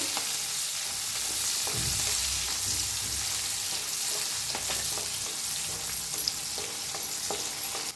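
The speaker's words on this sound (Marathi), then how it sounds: "हिरव्या मिरच्या पत्ता छान भाजून घेऊया" Green chillies with crushed garlic and leaves roasting in a pan, giving a loud, steady sizzle and hiss with light stirring scrapes throughout, no one speaking.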